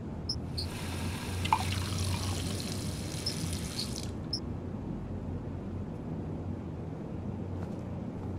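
Water is poured into a glass in the Heavy Rain video game: a faint trickling pour with a few drips over a low hum for about four seconds, then quiet room tone.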